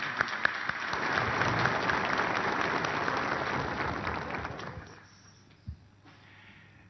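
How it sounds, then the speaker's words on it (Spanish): A church congregation claps warmly to welcome the bishop, loud sustained applause that fades out after about five seconds, leaving a quiet room with a couple of small knocks. "a quien le recibimos con un caluroso aplauso y bienvenido"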